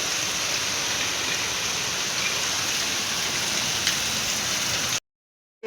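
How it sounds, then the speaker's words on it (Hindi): Heavy monsoon rain in Vrindavan pours down in a dense, steady roar of drops, loud and close, cutting off abruptly near the end. "बारिश लिटरली बहुत तेज़ है"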